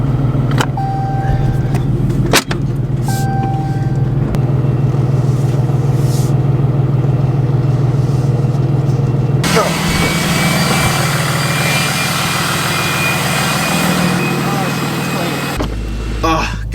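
A truck engine starts and runs with a steady low rumble, with some brief clunks and a person talking over it.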